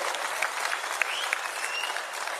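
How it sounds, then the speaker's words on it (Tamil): Steady, dense audience applause fills a prize-giving ceremony, a continuous wash of many hands clapping at even loudness with a few sharper claps standing out, no speech over it. "அவருக்கு உங்களின் பலத்த கைத்தட்டலை வழங்குமாறு அன்போடு கேட்டுக்கொள்கிறோம்"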